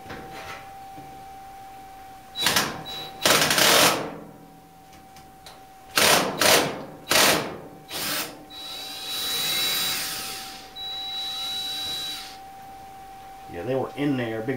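A DeWalt power tool works stuck parts loose on a Whirlpool clothes dryer, firing in several short loud bursts separated by pauses, with a steady hum underneath and one longer whirring run.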